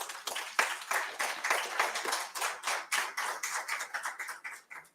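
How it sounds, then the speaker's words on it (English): An audience at an international peace and conflict resolution conference applauds, a brisk, continuous patter of many hands clapping at moderate volume that eases slightly toward the end, with no talk. "applause was extremely weak for the kind of work he has done"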